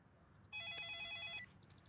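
A mobile phone rings with an incoming call in a Hindi film scene, one short melodic electronic ring burst of about a second, fairly faint against quiet background.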